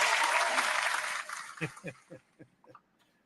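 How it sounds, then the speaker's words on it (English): Brief applause on a live rideshare driver show, a dense burst of clapping that fades to a few scattered claps and then stops. "He's going to get a big applause on that one"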